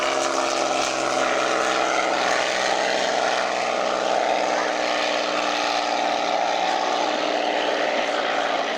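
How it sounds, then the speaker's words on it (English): A B-29 Superfortress bomber passes low over a lake at an air show, its piston engines and propellers making a steady, loud droning roar that holds evenly throughout with no pauses. "the aircraft down over the lake now, known as Fifi, the B-29"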